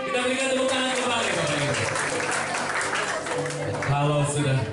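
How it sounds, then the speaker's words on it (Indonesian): A church crowd at a golden wedding anniversary claps steadily and loudly throughout, with chatter and voices mixed in beneath the applause. "Kita berikan tepuk tangan kembali"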